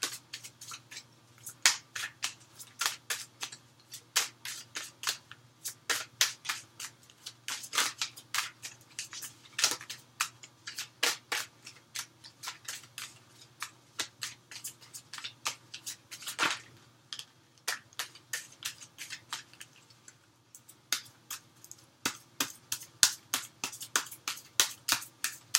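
Tarot cards riffle and snap in quick, irregular bursts of crisp clicks, close and clear, continuing almost without pause as the deck is shuffled.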